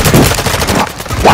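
Automatic gunfire in the video game Warzone 2, a loud dense rattle of rapid shots lasting about a second and a half with no pause.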